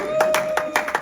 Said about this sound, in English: We gotta give a round of applause